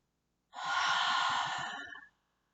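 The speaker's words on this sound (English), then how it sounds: "Exhale through the mouth." A single slow, soft exhale through the mouth during a guided breathing practice, lasting about one and a half seconds and then fading into silence.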